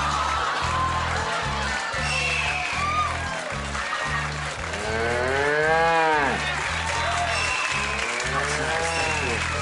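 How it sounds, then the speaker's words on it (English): Cattle mooing loudly in a long, drawn-out low call, with crowd noise and a voice talking in the background, in a comedic bit about the University of Georgia cow during NCAA basketball coverage. "It's the University of Georgia cow with mad cow disease"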